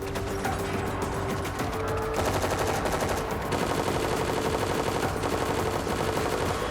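Rapid bursts of gunfire from a played Walking Dead episode, dense and continuous, with machine-gun rattle and clicking mechanisms layered throughout.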